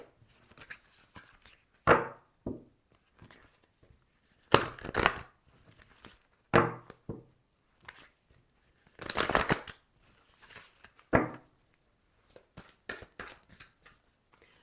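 Tarot cards are shuffled and drawn in a quiet room, with irregular short bursts of riffling and card slaps separated by near-silence and no talk.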